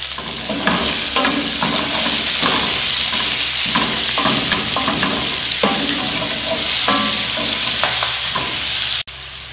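Onion frying and being stirred in a pan with softened pork ribs, with a steady close sizzle broken by repeated scraping strokes of the spoon, no talk.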